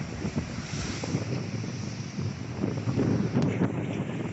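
Strong wind roars across the microphone in gusts by the sea in Dubrovnik, Croatia, with the wash of sea waves beneath, loud and continuous.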